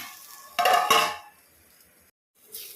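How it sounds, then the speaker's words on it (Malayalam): A metal lid is set on a pot of sardine fish curry with a couple of close clanks, then a quiet pause and a faint scrape. "ഇതൊന്ന് മൂടി വെച്ച്"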